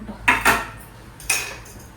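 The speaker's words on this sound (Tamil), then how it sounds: "நான் சைடு பை சைடு பார்த்தீங்கன்னா பாத்திரத்தை கழுவி வச்சுட்டு இருக்கேன்" Dishes and pots clattering during kitchen washing-up, three sharp close clanks of metal utensils in quick succession, with no voices.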